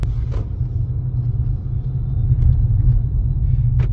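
Nissan Altima (2013–18, high mileage) with a CVT transmission cruising on the road, a steady loud low interior rumble of engine and tyres with a couple of faint brief knocks.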